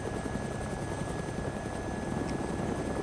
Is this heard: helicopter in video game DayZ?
yes